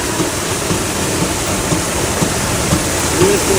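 Water rushing down a channel toward a village water mill, a loud steady roaring flow that fills the whole stretch, with faint voices mixed underneath.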